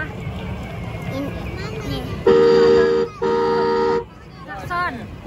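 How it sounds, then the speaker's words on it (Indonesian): Ride-on toy car horn honking in two loud, steady electronic toots of just under a second each, close by, with a child and an adult talking around them. "Klakson."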